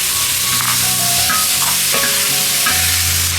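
Tomatoes are tipped into hot oil and stir-fried, giving a continuous close sizzle broken by scraping strokes of a utensil, with no talking.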